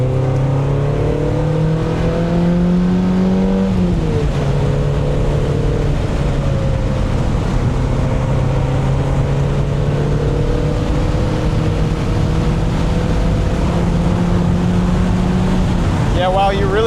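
A Mazda NC Miata with a swapped-in 2.5L engine is driven hard around Grattan Raceway, its loud in-cabin engine note climbing and dropping in repeated rev sweeps with shifts between pulls.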